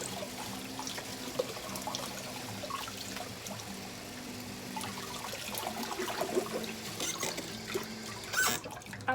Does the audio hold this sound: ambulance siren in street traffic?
no